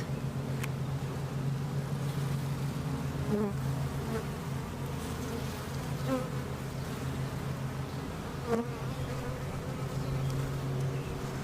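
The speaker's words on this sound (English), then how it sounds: "Definitely got lots of bees" A dense, steady drone of many honey bees buzzing close by around an open hive, a continuous hum with small swells, no voices.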